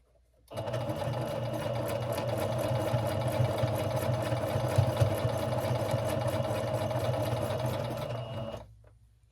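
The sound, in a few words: sewing machine running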